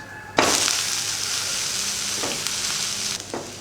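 Onion dosa sizzling and roasting on a hot pan, a steady frying hiss throughout with a sharp scrape and louder sizzle as it is flipped, followed by a couple of softer spatula scrapes.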